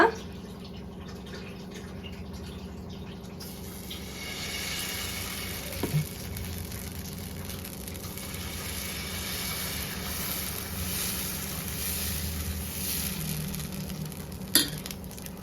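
Millet dosa batter made from barley, broken wheat and masoor dal, with no rice, sizzles on a hot griddle in a steady, close hiss, with a couple of sharp clicks along the way.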